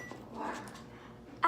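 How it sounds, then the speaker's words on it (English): A pet dog barks indoors at home during a bubble-making session. A short, sharp bark lands right at the end after a stretch of low background noise. "And now my dog is barking."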